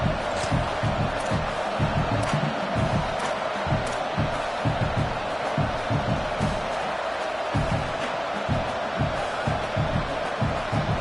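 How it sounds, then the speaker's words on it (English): Dense, deafening roar of a packed stadium crowd at a college football game between Texas A&M and UCLA, continuous and loud throughout with bursts of cheering and shouts rising above the wall of noise. "this crowd trying to help keep them there. Deafening noise."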